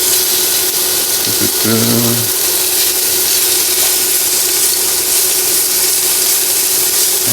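Small pieces of bacon browning and rendering fat in a pan, a dense steady hiss of sizzling fat, loud and close throughout, with a brief tonal hum and faint clatter early on.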